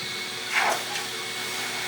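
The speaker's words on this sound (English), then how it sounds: "I'm going to the air dryer. Air dryer. Gonna be a little loud." Steady, loud rush of air from a car wash air dryer fills the whole stretch, a constant broadband roar with a brief surge partway through.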